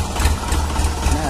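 A tractor engine runs steadily at close range, a low rumbling idle with a continuous mid-range hum throughout, and people are talking faintly in the background.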